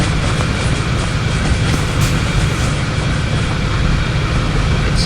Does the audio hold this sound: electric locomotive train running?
yes